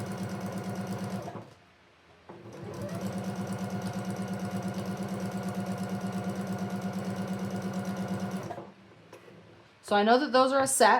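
A sewing machine stitches quilt blocks in pairs, running in two steady whirring bursts with a short pause between them. Someone speaks briefly at the end.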